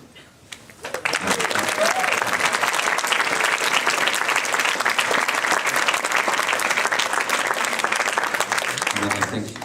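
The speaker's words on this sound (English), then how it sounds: "Everyone behind me deserves another round of applause" Loud, sustained applause from an audience at a quiz team awards event, swelling in after a brief quiet start and holding dense and steady to the end, with a few voices mixed into the crowd.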